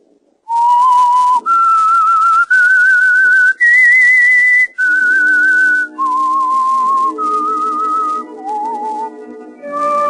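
A lone whistler carries the eerie theme melody of the old-time radio mystery show The Whistler, a clear, pure tone moving through sustained notes, loud and close with no speech.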